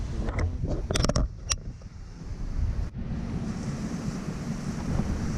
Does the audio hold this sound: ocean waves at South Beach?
yes